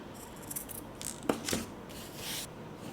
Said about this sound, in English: Now cut the corner just to make it look sharp at the end.